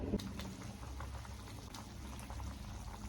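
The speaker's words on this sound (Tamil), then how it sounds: "இப்போ இதை நல்லா கொதிச்சிச்சு" Eggplant masala simmering in a pan on the stove, a steady low bubbling and sizzling close by that runs evenly throughout with no talk.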